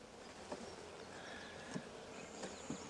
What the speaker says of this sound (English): we used loose bees from several hives